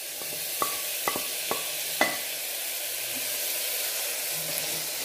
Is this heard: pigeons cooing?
no